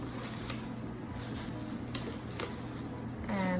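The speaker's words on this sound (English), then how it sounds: "Okay, so now I'm going to add the onion, and I mix." Onion being mixed into a Vietnamese spring roll filling in a pot, with a soft scraping stir and a low frying crackle, a few faint utensil taps, and a short tonal squeak at the end.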